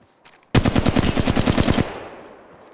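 Loud, close burst of rapid automatic gunfire in the mobile shooter game Apex Legends Mobile, about a dozen evenly spaced shots over roughly a second and a half, then a fading echo tail.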